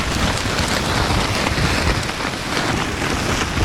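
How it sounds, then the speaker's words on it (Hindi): Heavy rain drums on a taut tent nearby while camping in the Himalayas, a dense steady patter with a windy hiss, loud and continuous. "अगर बारिश रुक जाती है तो बाहर निकलेंगे"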